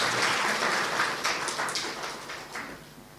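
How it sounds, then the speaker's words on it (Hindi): An audience claps together at a spiritual talk and meditation gathering, a steady wash of hand claps that starts full and thins slightly over about three seconds, with no voices over it. "इनके लिए भी ताली हो जाती।"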